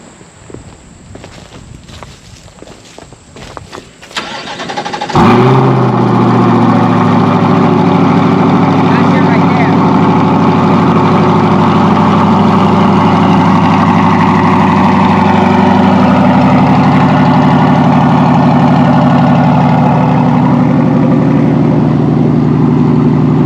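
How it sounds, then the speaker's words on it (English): A Corvette C8 fitted with a new exhaust system fires up after a few clicks and handling noises, then settles into a loud, steady, rumbling idle that runs on alone at close range. "let you hear this brand new exhaust system that I've thrown on this baby."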